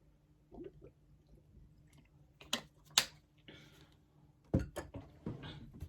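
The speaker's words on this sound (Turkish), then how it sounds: "Bir saniye su içeceğim." Someone pauses to drink water: soft, close sips and swallows with small wet clicks and light knocks, quiet and sporadic, with no talking.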